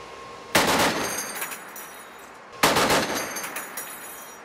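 Two loud bursts of heavy machine gun fire ring out from the Danish warship Esbern Snare at sea, each a short rapid volley with echoing decay, spaced about two seconds apart.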